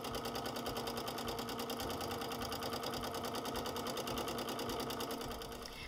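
A sewing machine runs steadily while free-motion quilting scallop shapes on appliqué, a fast, even mechanical whirring and needle clatter, close and continuous with no talk.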